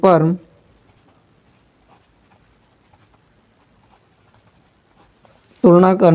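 Pen scratching on paper while a math solution is written out: faint, sparse scratches in a quiet stretch, with a voice speaking briefly at the start and end.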